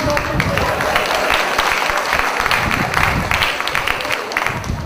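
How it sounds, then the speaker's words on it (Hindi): Audience applause at a Hindi poetry recital (kavi sammelan) in Dhamtari, a dense, steady round of clapping filling the hall for the whole stretch, with some voices mixed in. "ताली बजाओ।"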